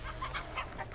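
Chickens clucking in The Texas Chainsaw Massacre video game, a quick run of soft, rhythmic clucks, fairly faint against a low background hum.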